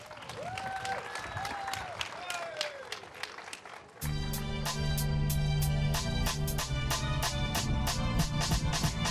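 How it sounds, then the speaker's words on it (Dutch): Audience applause in Burum, rhythmic loud clapping that starts over a voice and then continues over a loud pounding beat and music. "Dames en heren, geef ze een hard applaus."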